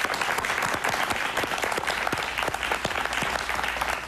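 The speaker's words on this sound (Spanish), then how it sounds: "Un aplauso, por favor." An audience applauds at a televised talk show, dense sustained clapping from many hands filling the whole stretch, loud and even with no break and no voice on top.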